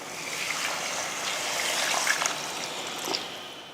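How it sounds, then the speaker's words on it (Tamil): Water pours into mutton curry in a pressure cooker pan after the masala-coated mutton has been sautéed, a steady close splashing trickle lasting a few seconds with no talk. "இந்த டைமில் தண்ணி சேர்த்துடலாம்."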